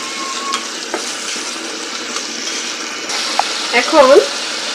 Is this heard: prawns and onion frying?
yes